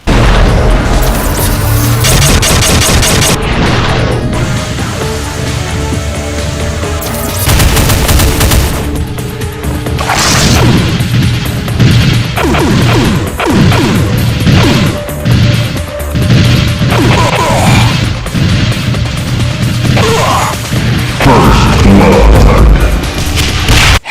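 Heavy railgun shots from a Cyberdemon in a Doom mod, loud and dense, with repeated booming blasts and crashing impacts that overlap in a continuous chaotic barrage of game combat.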